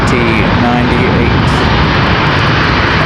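An American Airlines Airbus A321-200 jet departs Charlotte Douglas International Airport, a loud, steady broadband engine roar held throughout, with faint voices underneath.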